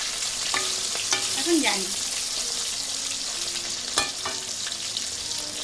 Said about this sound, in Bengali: তো মাছগুলো আমি ভেজে নেব।